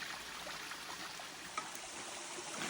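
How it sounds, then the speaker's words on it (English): Water trickles and rushes through a PVC gold trommel and sluice at a mining claim, a faint, steady broadband wash with no pauses and a single small splash partway through. "Water flow has decreased substantially."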